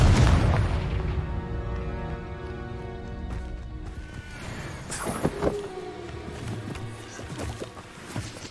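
Confringo explosion spell cast in Hogwarts Legacy, a fiery blast with a low boom near the start, followed by scattered crackles, thuds and game ambience, no talk.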